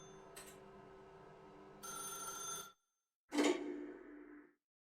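Telephone ringing in The Stanley Parable game: two bright electronic ring bursts with a short silent gap between them, preceded by a faint ping, fairly quiet overall.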